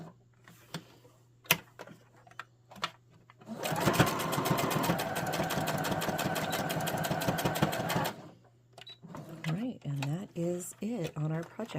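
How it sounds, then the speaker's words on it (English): A sewing machine back stitches over earlier stitches on a small fabric cord keeper. It runs in one loud, rapid, rhythmic burst of several seconds. Speech comes before and after the burst. "I will do some back stitching overlapping those stitches."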